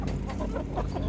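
Farmyard chickens clucking close by at a morning feeding, with a flock of hens and one rooster, short choppy clucks repeating in quick succession over a steady background, no talking.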